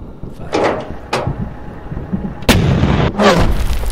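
Artillery pieces firing in a World War II British troop reconnaissance video game, several heavy booming shots spaced irregularly, with one sharp loud report near the middle followed by rumbling echoes.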